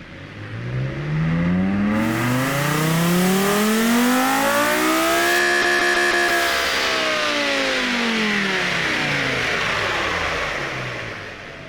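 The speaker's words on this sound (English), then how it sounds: "let's listen to what this V10 engine sounds like right now." A V10 supercar engine with an 8,500 RPM redline revving in a driving game, climbing steadily to a high-pitched wail, holding near the top, then easing back down, loud and alone.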